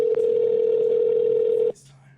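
A phone call rings out during a podcast as one loud, steady electronic ringback tone that holds for under two seconds and then cuts off abruptly, leaving faint background.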